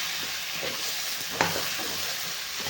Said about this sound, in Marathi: वांगी टाकून आपल्याला वांग्याला छान असं परतून आपल्याला ह्या मसाल्यात आणि तेलात